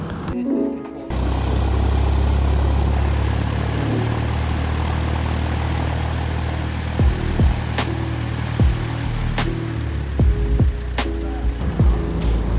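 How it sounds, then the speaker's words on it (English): Small single-engine training airplane taxiing in after a training flight, a steady propeller-engine drone that holds loud and near throughout, with faint chirps and clicks rising over it. "Here's another student taxiing in after their successful training flight."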